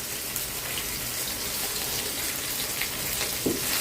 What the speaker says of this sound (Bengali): তো মাছটা ভেজে নিচ্ছি এখন